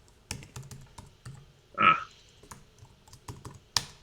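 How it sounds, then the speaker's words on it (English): Typing on a computer keyboard produces sparse, irregular soft clicks at close range, interrupted once by a short, louder squeaky burst, with no talking. "I'm just typing it out."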